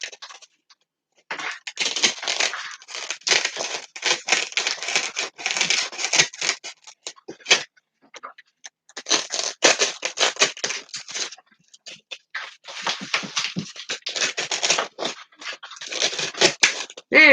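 Foam is cut by hand for a Christmas tree craft in long bursts of scratchy, rasping strokes, close and loud, broken by short pauses, with no talk.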